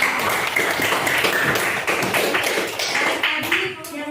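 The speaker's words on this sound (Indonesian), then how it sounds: "Oke, berikan aplaus kepada teman-teman." An audience claps during a coaching session for academic supervision, a steady close patter of many hands that tapers off near the end.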